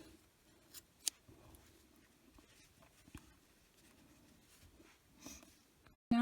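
A single sharp snip of scissors cuts through crochet yarn on a small amigurumi toy, a brief faint click in a quiet room with light handling rustle around it.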